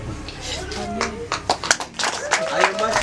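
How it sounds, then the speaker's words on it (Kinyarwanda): Clapping from guests at a wedding ceremony, a short burst of several claps mixed with people talking and murmuring nearby. "ayo mashyi yaboneka"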